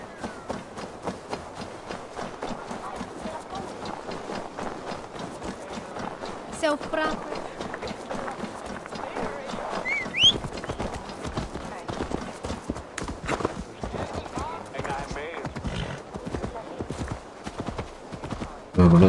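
Horse galloping in the video game Assassin's Creed Valhalla, with fast, steady rhythmic hoof clops running throughout and someone talking over them.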